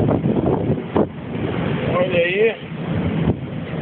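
Gale-force wind roars across deck 12 of the Costa Magica cruise ship in rough seas, a loud steady rush buffeting the microphone, while someone speaks briefly and a thin whistling tone rises midway.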